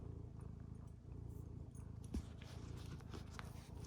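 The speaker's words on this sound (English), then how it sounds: "If you can hear a cat purring, it's my cat that's on my lap" A soft, steady low rumble of a cat purring close by, continuous throughout with a brief louder bump midway.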